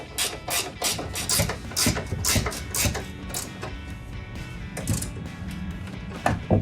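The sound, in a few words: ratchet tightening 18mm nuts on a truck strut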